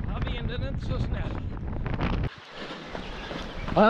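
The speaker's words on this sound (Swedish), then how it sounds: "vinden är inte så snäll." Headwind buffets a runner's microphone during a 50 km ultra run near Farhult, a loud low rumbling roar that suddenly drops to a quieter hiss partway through.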